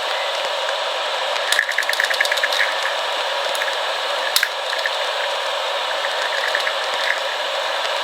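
A new 3x3 speed cube, freshly lubed, is turned quickly to test corner cutting. It gives bursts of rapid, close plastic clicking and ratcheting against a steady background hiss, with no talking.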